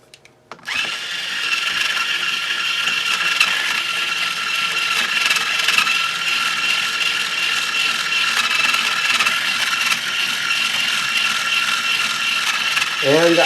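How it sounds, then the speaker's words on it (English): An Ernie Ball Power Peg Pro motorized string winder turns a guitar tuning peg with a continuous whirring, ratcheting motor drone, loud and close, starting abruptly after a few brief knocks. "always use my Ernie Ball Power Peg Pro string winder"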